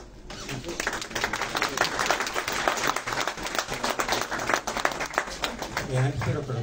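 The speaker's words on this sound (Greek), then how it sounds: "Εάν χειροκροτάτε πριν ξεκινήσω, τι θα γίνει μετά?" An audience at a Greek book presentation and graduation event claps steadily for several seconds, a dense, lively applause that rises near the start and continues, with voices mixed in beneath it.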